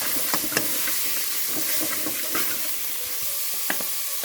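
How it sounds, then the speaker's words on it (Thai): Minced pork stir-fried in a pot for a rice soup: steady sizzling hiss with repeated scraping strokes of the stirring utensil, close and moderately loud, no talking. "ใส่หมูบดลงไปเนาะแล้วก็คนให้มันแตกกันก่อน"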